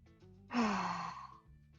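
A single deep, audible breath taken during a slow yoga stretch in a resistance and strength session, a soft airy exhale that swells and gradually fades over about a second, close and alone without talk.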